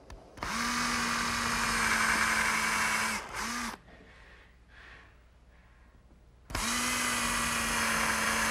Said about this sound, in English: I'm going to pre-drill for some more brass screws